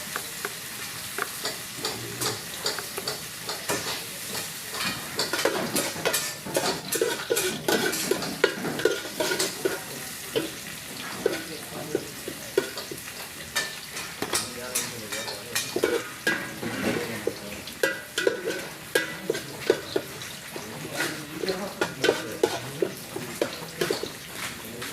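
Garlic and ginger sizzle in a hot pan while being stirred, a continuous crackling fry broken by irregular scraping and clattering of the utensil against the pan, close and fairly loud.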